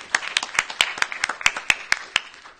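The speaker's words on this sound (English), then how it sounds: "So please give a round of applause for them." A conference audience at DrupalCon Los Angeles 2015 applauds Drupal 8 core contributors, with sharp, fairly close hand claps in a steady, dense rhythm across the whole moment.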